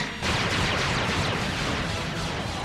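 Cartoon laser-style gunfire from Transformers robots in battle, a dense, loud continuous barrage of blasts and impacts filling the whole stretch after a brief quieter start.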